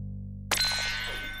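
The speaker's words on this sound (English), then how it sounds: "It's the Doodlebop Red Heart Phone!" The Doodlebop Red Heart Phone on the children's show The Doodlebops gives a single bright metallic clang that rings out and decays over a low hum, with no one speaking.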